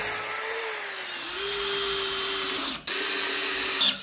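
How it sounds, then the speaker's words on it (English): A power tool cuts a piece of timber with a close, high steady whine that shifts pitch as it bites, briefly cuts out near the end and then resumes, with no voices. "cut a piece of timber to go in that gap there"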